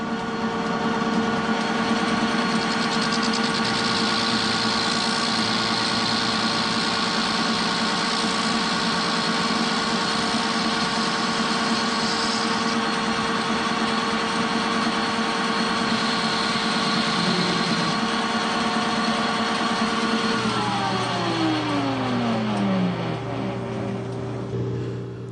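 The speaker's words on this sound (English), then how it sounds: "We'll move over 200 thousandths and we'll clean up the face of that end piece." Milling machine with a universal milling head cleaning up the face of an end piece on a splined test shaft, a steady loud whine and hum with a continuous cutting buzz that shifts tone near the end.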